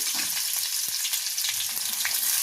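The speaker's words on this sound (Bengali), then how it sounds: "রসুনটা দিয়ে পেঁয়াজ পাতার যে পেঁয়াজের অংশটা দিয়ে দিলাম, এটা হালকা ফ্রাই করে" Garlic and spring onion bulbs frying lightly in oil in a pan, a steady close crackling sizzle with a few sharper pops, no voices.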